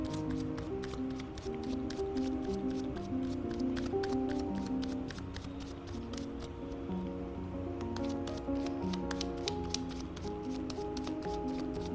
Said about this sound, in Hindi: सो मैं लाइव शफल करने जा रही